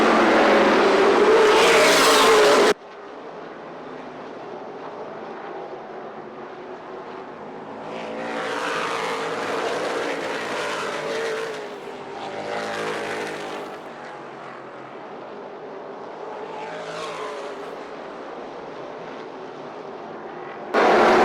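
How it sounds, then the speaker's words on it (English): Late model race cars roar around Kalamazoo Speedway in a Munson Builders A-Feature, the engine sound swelling and fading as the pack passes, loud at first and then more distant. "your Munson Builders late model A-Feature goes roaring in"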